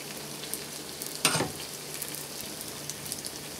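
Puff puff (bofrot) dough balls frying in hot oil, a soft continuous sizzle with a brief sharper crackling burst as dough drops in, fairly quiet.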